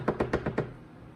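A decorated mermaid cookie tapped on a surface to settle wet icing, five quick, soft knocks in an even rhythm, close and quiet, then stillness.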